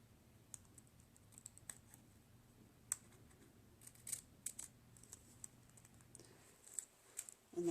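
Quiet, sharp snips of scissors cutting origami paper, several irregular clicks spaced out over a few seconds against a faint background hum.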